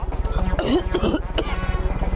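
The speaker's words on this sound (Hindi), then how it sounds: "और खांसी भी हो गई अभी अभी।" A few rough, throaty coughs and throat-clearing sounds, close and fairly loud, over a steady low hum.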